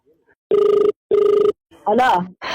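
A phone rings twice in two even electronic bursts, then a person begins speaking close up.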